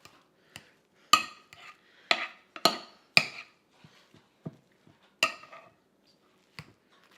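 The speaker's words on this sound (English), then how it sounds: "Go ahead and get your masher and mash your potatoes." A potato masher works through cooked potatoes in the serving dish, making a series of irregular clanks and soft squelching thuds against the dish, close up, with quiet gaps between strokes.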